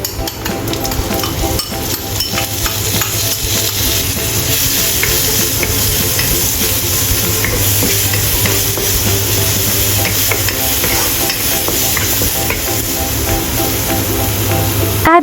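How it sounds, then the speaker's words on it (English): Fried shrimps and sakura dried shrimp are stir-fried in a pan, with a loud, continuous sizzle and constant scraping of the utensil that runs unbroken throughout. "Add fried shrimps and stir-fry"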